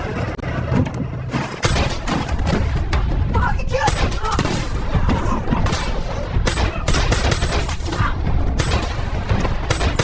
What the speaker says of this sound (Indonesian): Dengan santainya, Hale menghabisi semua perampok itu dan menembak kakinya